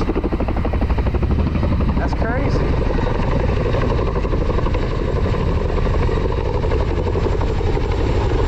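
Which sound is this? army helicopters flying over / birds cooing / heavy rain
army helicopters flying over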